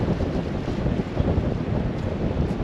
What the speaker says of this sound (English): the wind's got really badly up now. It must be blowing 25 now.